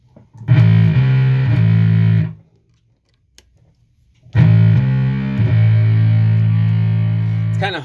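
Electric bass played through a one-knob bass fuzz circuit built on a breadboard: two loud, buzzy distorted notes, each sustained for a couple of seconds with a slight change in pitch, separated by a short silence.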